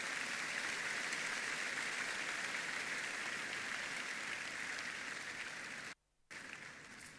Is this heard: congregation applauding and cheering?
yes